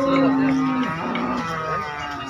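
A cow at a village cattle market lets out a loud, close moo that holds steady and then drops in pitch, followed by a second lower, drawn-out call.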